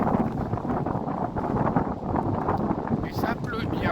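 Steady blustery wind by the sea at Tarifa buffets the microphone throughout, a broad continuous roar with gusty swells and a faint rain-like hiss.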